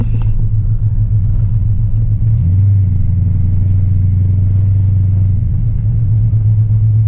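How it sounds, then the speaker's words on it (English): An LS V8 engine with a P59 computer decelerating off throttle, its loud steady low rumble sliding down in pitch partway through and then settling at a lower drone, with no talk over it. "Foot off the throttle here. Let it come down a little bit."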